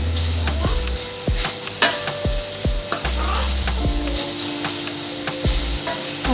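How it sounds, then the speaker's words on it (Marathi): Carrot halwa is stirred in a pan over low heat, with steady scraping and soft sizzling, a spoon knocking the pan at intervals, close and continuous, with no voices. "असं आपल्याला हलवत हलवत थोडं शिजवायचं आहे स्लो गॅसवरती।"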